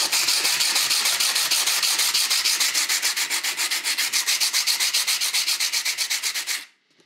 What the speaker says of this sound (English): I'm just starting out with some 40 grit sandpaper to start